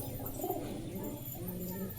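A pair of red pigeons, male and female, cooing softly in a coop, low repeated coos close by over faint background noise.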